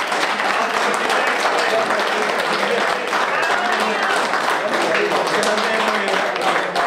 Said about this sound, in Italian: Bravo Bianco, un buon applauso!